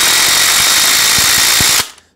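A bearing is driven into the swing arm of a Yamaha YZ250 enduro bike with a loud, continuous power-tool whir, a few sharp knocks within it, stopping abruptly near the end.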